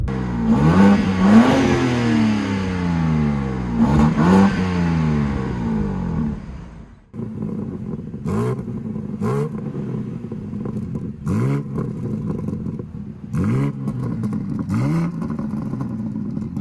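A BMW M3 Competition (G80) revs hard several times with exhaust valves open, loud and raspy, then settles into a rumbling idle punctuated by sharp throttle blips.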